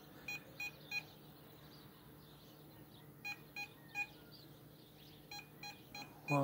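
A phone across the room gives short electronic beeps in irregular bursts, faint and distant over a steady background hum.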